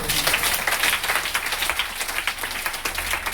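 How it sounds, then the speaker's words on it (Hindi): Applause from an audience at a talk: dense, steady clapping fills the whole stretch at close range with no pauses or voices on top. "सबके लिए ताली होनी चाहिए।"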